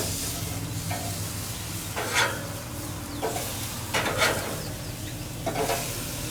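Turkey burgers cook on a grill with a steady soft sizzle under a low hum, while a few brief scraping, clattering handling sounds rise at intervals; no one speaks.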